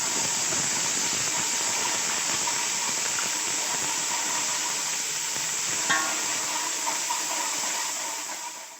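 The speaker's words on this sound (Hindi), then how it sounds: "इसमें हम शामिल कर देंगे 2 खाने के चम्मच लहसुन अदरक का पेस्ट और इसको अच्छी तरह से हम फ्राई कर लेंगे" Garlic-ginger paste fries with onions in a pan, giving a steady, close, hissing sizzle with a brief clink partway through, and no voices.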